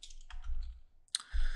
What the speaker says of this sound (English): So let's type this in,